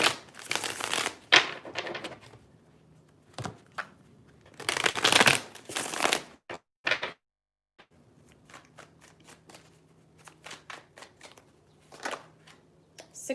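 Tarot cards shuffled by hand in several bursts of riffling and crisp card snaps, close and fairly loud, separated by short pauses and a stretch of quieter tapping and flicking.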